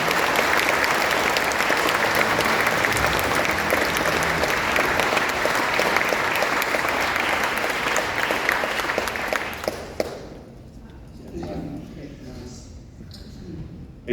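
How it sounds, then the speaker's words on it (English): Sustained, loud audience applause at a science award ceremony, a dense wash of clapping that fades out abruptly near the end, leaving quieter room sound. "Another huge round of applause,"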